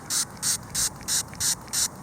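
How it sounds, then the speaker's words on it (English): Hand spray bottle misting water onto an old brass piece, six evenly spaced bursts of hiss about a third of a second apart, close and clear in a quiet setting. "I'm gonna get some water and spray this."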